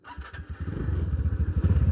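A scooter engine sputters to life close by, then settles into a steady, pulsing low putter as it begins to pull away, with no talk.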